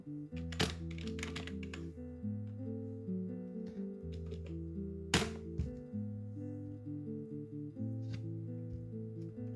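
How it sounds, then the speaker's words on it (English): A command being typed on a computer keyboard into a Windows command prompt, with irregular soft key clicks and a couple of sharper keystrokes over quiet background music. "Now you can type Java space minus version, then enter."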